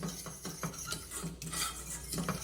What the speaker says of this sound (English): we're going to stir for another minute